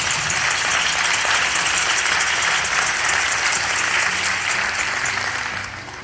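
An audience bursts into sustained applause for Pope Francis, a dense, loud wash of clapping that holds steady for several seconds before starting to fade at the end.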